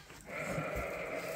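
A sheep on a farm lets out a single drawn-out bleat, fairly close and moderately loud, over a faint background of barn noise.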